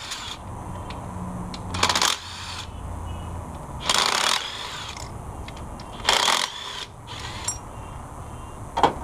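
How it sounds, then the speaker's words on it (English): A 12mm socket ratchet works loose a bracket on a 2003 Nissan Xterra, giving four short, sharp metallic clicking bursts spaced about two seconds apart in a quiet garage, close and distinct. "let's go ahead and detach that bracket using a 12mm socket"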